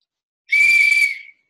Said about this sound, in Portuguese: na hora que vocês tocam um apito, as crianças já sabem que tem aquele barulho que vai ser a contação